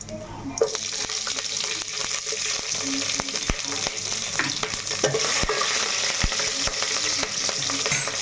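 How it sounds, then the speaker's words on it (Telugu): Green chillies fry in hot oil in a home kitchen for a Telugu-style tomato rice and chicken gravy, giving a steady loud sizzle with scattered scraping stirs and clinks of a utensil against the pan, no talk. "నూనె అయితే మనకు వేడెక్కింది వేసేసుకుందాం చక్కగా ఇలాగా వేగుతున్నాగా పచ్చిమిర్చి వేసుకుందాం"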